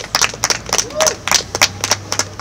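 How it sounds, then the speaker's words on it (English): Scattered clapping from a small gathering of neighbors honoring project contributors, a dozen or so distinct claps in an uneven rhythm, moderately close, with a faint voice murmuring underneath. "They really deserve that round of applause."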